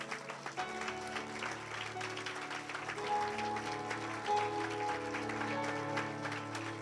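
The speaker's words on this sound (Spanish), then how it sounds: "Dale fuerte ese aplauso a Él." A church congregation applauds during a sermon, steady clapping sustained throughout alongside tonal music or held notes underneath, moderately loud and continuous.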